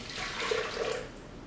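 Water poured from a measuring cup into a bowl while making dough, a short soft splashing pour, close and quiet.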